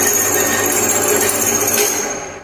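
A drilling machine bores into a workpiece clamped in a machine vise, giving a loud, continuous whirring grind that holds steady and then fades away at the end.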